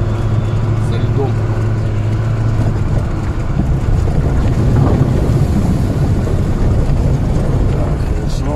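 A Niva car drives off-road through an ice-covered puddle, its engine rumbling under heavy wind buffeting on the microphone, with rough splashing and crunching growing louder partway through while a person talks.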